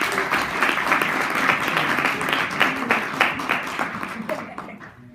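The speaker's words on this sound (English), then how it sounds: "Let's clap hands for MJ Azani." Audience at a university panel discussion claps for a student panelist, a loud, dense burst of many hands that stays full for several seconds, then gradually tapers off.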